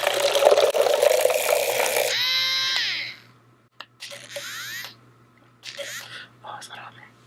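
A brush cleaner machine spins with a loud whirring rush of water for a couple of seconds, then winds down with a falling whine, followed by quieter splashes and trickles as water spills out.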